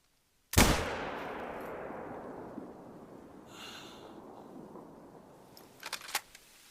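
A single rifle shot fired at a bear in the hunting video game Call of the Wild: The Hunter, a loud sharp crack with a long fading echoing tail, followed by faint rustling and a few small clicks.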